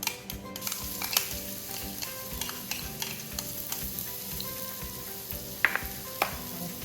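Garlic sizzles and crackles steadily in hot vegetable oil while being stirred, with scraping stir strokes and occasional sharp pops close up over a continuous frying hiss.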